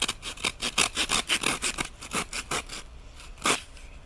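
A bow drill spins against a wooden board, giving a fast run of rhythmic rasping, scraping strokes, close and fairly loud, that slows and thins out near the end with one last stroke.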